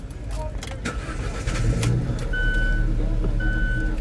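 A 2015 Alfa Romeo 4C Launch Edition fires up, its engine catching into a low rumble that rises and settles into idle, with electronic beeps and people talking nearby.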